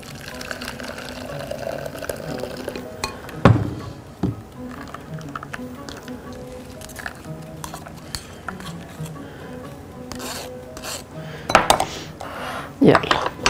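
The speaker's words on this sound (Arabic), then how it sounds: "يلا هصفي الليمون بتاعي" Lemon juice being strained with kitchen utensils while making a chilled peach drink: scattered clinks and knocks of metal and glass with a few sharp taps, close and intermittent.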